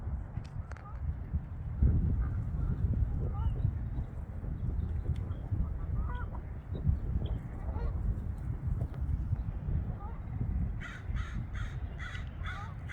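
Geese honk and call around a lake with an island aviary, repeated outdoor bird calls over steady wind-like rumble, with a cluster of sharper calls near the end.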